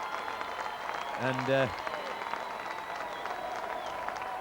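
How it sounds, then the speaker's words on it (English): A crowd at a 1997 Keighley versus Widnes rugby league match gives a sympathetic round of applause as an injured player leaves the field, steady distant clapping under a commentator's voice. "Andy Ayres is getting a sympathetic round of applause as he leaves the field with a badly cut head"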